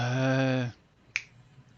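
After a long sustained tone cuts off, a single sharp finger snap cracks out close and clear, then quiet returns.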